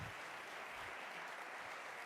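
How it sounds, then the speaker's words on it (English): A round of applause from the audience at an evening MLK regional celebration, a brief, faint wash of steady clapping with no speech. "let's just get one more round of applause"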